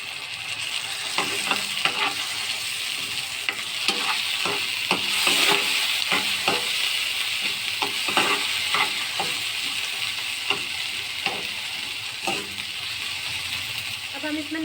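Street-style spicy chow mein frying with soy sauce just added, a steady bright sizzle and hiss under repeated clanking stirring strokes of a utensil in the pan, close and fairly loud throughout.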